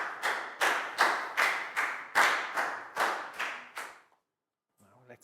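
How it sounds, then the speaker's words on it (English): A group claps in about nine rhythmic bursts, each swelling and fading, before stopping abruptly; a brief voice follows at the end. "Big round of applause for Pat, please, guys."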